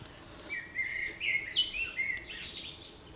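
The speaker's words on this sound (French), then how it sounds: "tous les matins, je suis accompagné par Monsieur le Merle Noir qui nous fait ses plus belles vocalises" A common blackbird sings its morning song outdoors near a converted coach being insulated, a string of fluty, warbling phrases of moderate loudness over a quiet background, with no one speaking.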